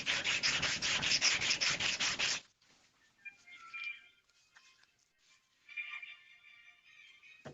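A loud, rough, rhythmic sanding rasp lasts about two seconds and stops abruptly. Quiet scattered rubbing and faint scraping follow, with a brief soft whir near the end.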